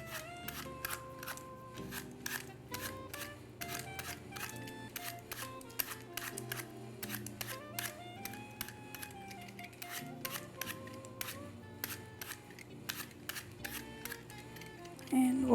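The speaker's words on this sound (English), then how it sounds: "I will peel the apple using a vegetable peeler, the easiest way." A whole apple is peeled with a vegetable peeler in a home kitchen, the blade making a fast run of short scraping clicks over steady background music.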